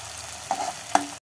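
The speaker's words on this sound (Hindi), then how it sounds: "ये देखिए, प्याज भुन चुका है।" Onions and green chillies frying in a pan for dhaba-style paneer bhurji, a brief close sizzle with two sharp stirring knocks before it cuts off.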